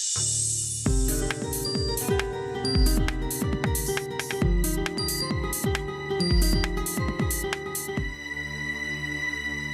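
A melodic mobile phone ringtone plays for an incoming call in a Hindi TV drama household. The bright, repeating tune is loud and close, runs steadily for about eight seconds, then stops abruptly, with no talking over it.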